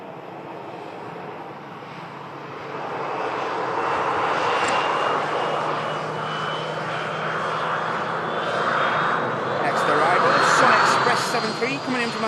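A passenger airliner arriving from Antalya after a four-hour flight, its engine roar swelling steadily over twelve seconds and peaking near the end, with a faint whine rising through it and a voice talking underneath.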